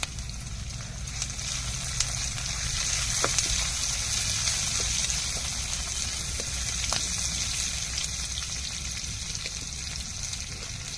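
Onions fry in a pan with a continuous close sizzle and crackle, with a few soft utensil taps and no talking.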